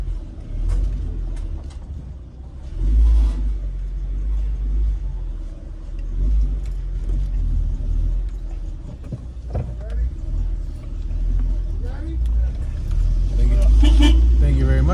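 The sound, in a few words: car traffic on a Philadelphia street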